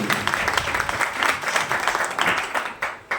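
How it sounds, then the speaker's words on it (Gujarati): An audience at a stage event applauds a guest singer, with sustained clapping that fades out in the last moments. "તેમને જોરદાર તાળીઓ બજાવીએ"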